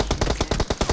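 Rapid gunfire in the battle royale game PUBG fires as a burst of about eight sharp, punchy shots in quick even succession, loud and close, with no voices.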